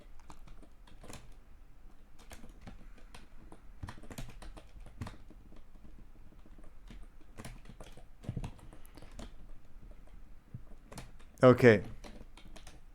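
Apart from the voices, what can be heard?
typing on a computer keyboard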